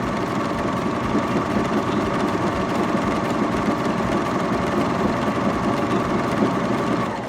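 A Baby Lock Vibrant serger sews rolled edge pintucks with a steady, close motor whir that runs loud and unbroken, with no talking.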